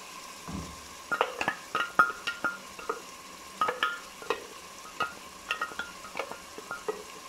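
Onion and tomato paste for a potato chicken curry frying in a pot, with repeated scraping stirs of a spoon against the metal over a soft, steady sizzle, close and without talk.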